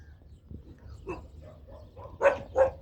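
A dog gives a few soft, short barks and whimpering yips close by, ending with two louder barks.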